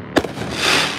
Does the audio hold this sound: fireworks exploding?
yes